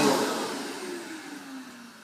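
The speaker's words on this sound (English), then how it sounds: "make sure the vacuum is running at tip-top performance." A vacuum cleaner runs steadily at close range after servicing, a broad whirring roar with a falling motor tone that slowly softens, with no voices.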